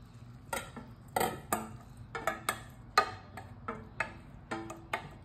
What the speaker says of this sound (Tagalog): Ngayon, imimix na natin ang labong.